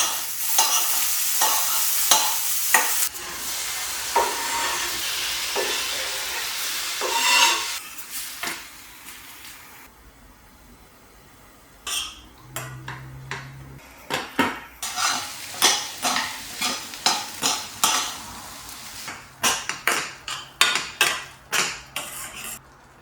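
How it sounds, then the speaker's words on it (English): Chopped tomatoes being sautéed in oil with a pinch of salt: loud frying hiss and stirring, a quieter pause, then a run of rhythmic scrapes and clanks of a utensil against the pan. "We sauteed these tomatoes until they become soft by adding a pinch of salt"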